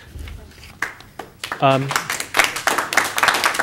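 Audience clapping at a city council meeting: a burst of scattered handclaps that builds into brisk, moderately loud applause, with a brief spoken voice in the middle.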